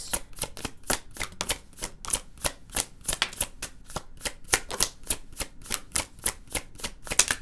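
Oracle cards being shuffled by hand make a steady run of quick papery riffles and flutters, close and fairly soft, with no voices.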